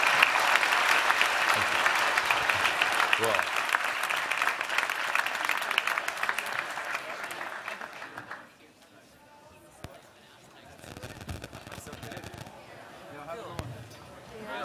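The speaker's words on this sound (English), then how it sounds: "please, a round of applause for our guest" An auditorium audience at a Harvard Institute talk applauds the guest, the NRA President, after an interview with a CNN anchor; dense, steady clapping fills the room for several seconds, then fades out as a speaker talks over the quieter hall.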